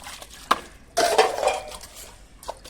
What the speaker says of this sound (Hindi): तो ठीक है, फैमिली बर्तन साफ कर दूँ